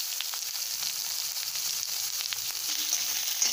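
Chopped onion and green chillies fry in a pan with ginger and garlic for a Kerala-style jackfruit seed stir fry, making a soft, continuous sizzle with faint stirring clicks close by and no voices.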